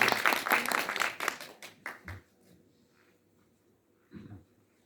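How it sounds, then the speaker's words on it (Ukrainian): A short burst of audience applause at a Ukrainian-language forum in a hall rings out loudly, then fades within about two seconds, followed by quiet room tone and a brief low thump. "Оплески Марії і презентація"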